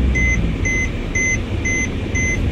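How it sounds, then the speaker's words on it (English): A steady electronic seat belt warning chime repeats in even pulses, about two per second, over a low engine hum inside a 2011 Mercedes-Benz E 250 CDI. "that's the reason this buzzer is making this noise"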